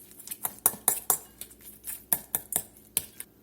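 Spoon clinks and scrapes against a bowl while stirring Cajun deviled egg filling with bacon bits and Cajun seasoning, a close, irregular series of sharp clicks and taps.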